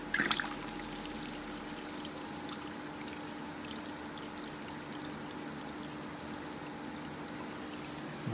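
Water flows through an aquarium siphon drain and pours into the sump below, a steady low trickling stream with a faint constant hum, quiet and continuous with a brief gurgle at the start.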